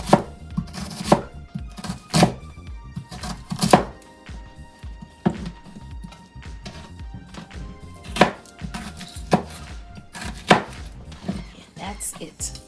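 A knife chops an onion on a cutting board in about ten sharp, uneven strikes, with quieter scraping and handling between the blows.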